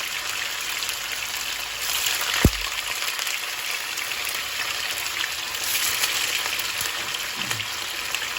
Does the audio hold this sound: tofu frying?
yes